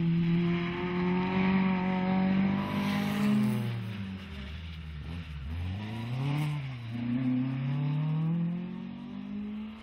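A BMW rally car on an asphalt rally stage powers hard, its engine note sweeping up and down through gear changes as it accelerates, loud and close throughout with a dip and recovery midway.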